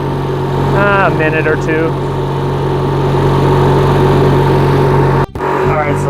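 A Kohler Magnum 18.5HP twin engine on a Craftsman garden tractor running steadily at half throttle, a loud close drone throughout with someone talking over it.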